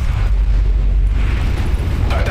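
A deep, rolling explosion in the video game Mass Effect, on the Pinnacle Station level, booms with heavy low rumble that lingers and grumbles steadily, with a brighter crackle surfacing near the end.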